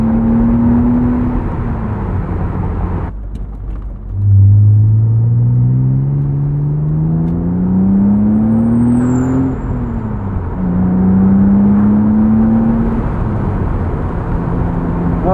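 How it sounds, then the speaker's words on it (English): A 1999 BMW Z3 M Roadster engine revs hard while driving, climbing through the gears with rising pitch sweeps, a shift near the middle, then another pull; loud, close and unbroken by talk. "Oh, I love revving that motor out."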